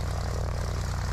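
The engine of a small propeller airplane, registration C-FMVU, runs with a steady, loud pulsing drone, close and constant with no talk.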